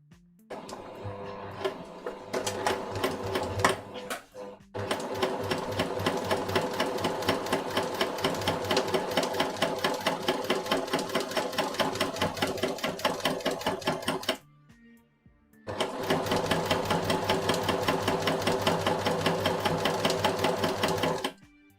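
A sewing machine stitches a pin-tuck shirt in fast, even mechanical bursts, close and steady, with a short pause between two long runs of stitching.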